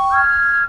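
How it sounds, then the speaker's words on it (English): Steam engine whistles sounding together, one steady, piercing, sustained blast that holds clearly for well over half a second before cutting off abruptly, loud and close. "The engines whistled."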